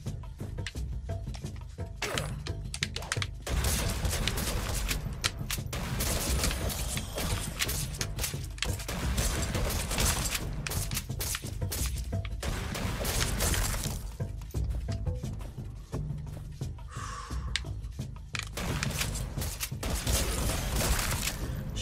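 Shotgun fire in the comic-book rogue-lite game Badass Hero, a dense run of sharp shattering blasts and crunchy impacts repeating with short pauses, loud and close, under constant game noise with no talk.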